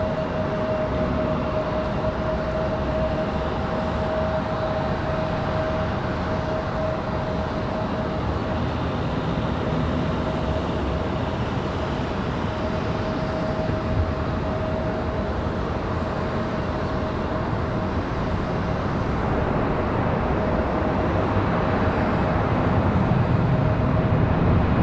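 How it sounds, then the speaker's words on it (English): An Airbus A321 airliner touching down at Raleigh-Durham airport makes a continuous broad roar with a steady engine whine, growing slightly louder toward the end and heard without talk. "Smooth touchdown for the A321, just kissing the pavement."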